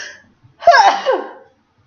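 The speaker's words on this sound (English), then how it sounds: "I have to sneeze, excuse me." A single short sneeze-like burst from an adult, sharp and close, followed by a brief fading exhale in an otherwise quiet room.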